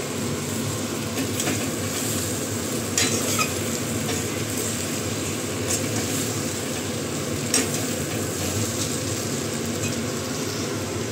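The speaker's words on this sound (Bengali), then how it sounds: "এই যে মশলা দিয়ে আলু পটল কষানো হয়ে গেছে" Potatoes and pointed gourd sauté with spices in a pan, making a continuous dense sizzle and hiss with occasional soft spatula scrapes, steady and close with no speech.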